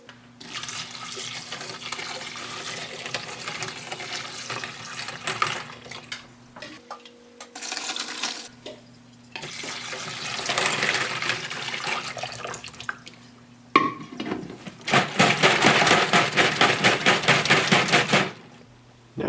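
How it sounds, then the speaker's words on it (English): Cleaning solution drains out of an ultrasonic brass cleaner holding .223 cases, heard as a steady run of splashing, trickling liquid in bursts, with rattling and clicking between pours and a constant low hum underneath. "we're going to go ahead and drain all of the solution out"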